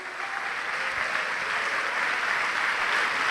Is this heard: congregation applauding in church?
yes